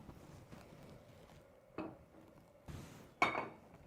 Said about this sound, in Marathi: आता हे इकडे शिफ्ट करते आणि इथे कढई ठेवते।